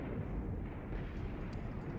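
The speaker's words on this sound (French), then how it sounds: "c'est le M488 à explosion nucléaire" A nuclear blast from the M488 weapon in the video game Just Cause 3, heard as a sustained, dense low-frequency rumble and roar that holds steady and loud throughout, with no voices over it.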